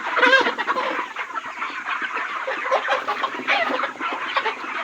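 A crowded flock of chickens in a poultry farm shed clucks and murmurs steadily, a dense, continuous din of many birds with no talking.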